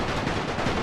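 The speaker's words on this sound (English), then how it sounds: "Take another volley!" Dense, continuous infantry volley gunfire in a World War I battle game, with rapid overlapping shots that merge into one loud, unbroken crackle and no voices.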